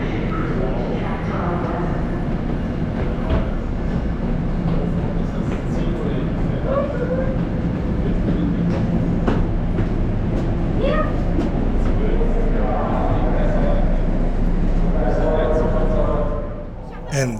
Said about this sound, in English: there is our shiny ride of the day, the Northeast Regional train towards Washington DC.